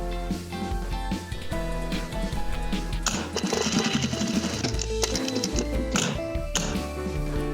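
A sewing machine runs steadily, stitching a cosplay costume. Its fast mechanical stitching is close and continuous, blended with other tonal sounds, and no one talks.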